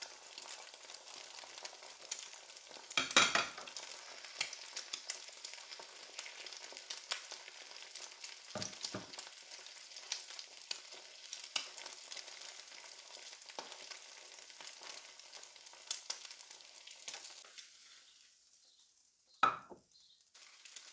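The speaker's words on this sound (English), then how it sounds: "Then transfer the sausage into the fry pan." Sausage frying in a fry pan, a continuous soft sizzle with a few louder clanks and scrapes of turning, fading toward the end, no voices.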